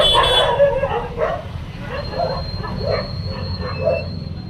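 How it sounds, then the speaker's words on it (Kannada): A chubby puppy at a family home gives a handful of short barks spaced a second or so apart, at moderate distance, over a steady low rumbling background. "ಇವಾಗ ಇದು ನಾಯಿ ಆಯ್ತಾ"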